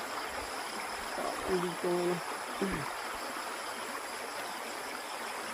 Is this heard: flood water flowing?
yes